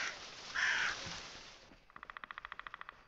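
A crow caws outdoors, first a couple of drawn-out harsh calls, then a fast string of about a dozen clipped caws in an even rhythm, fairly close and clear against quiet surroundings.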